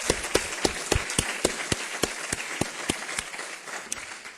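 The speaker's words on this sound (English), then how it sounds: "So let's give them also a round of applause." An audience at a university talk with the chair of the Berkeley Academic Senate breaks into steady applause, a dense wash of clapping with sharper individual claps standing out for several seconds.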